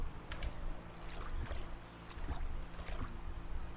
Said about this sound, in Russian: Катер приехал.